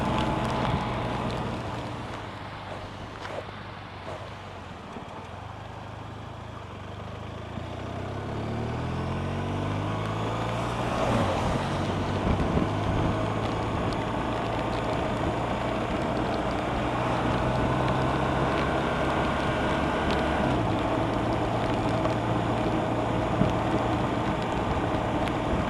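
A BMW R1200RT motorcycle rides through heavy rain, giving a continuous dense roar of wind and spray that swells and settles over nearly half a minute, with no voices.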